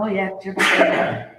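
A single sharp sneeze bursts out midway through conversation at a virtual convention panel, loud and close, with people talking just before it.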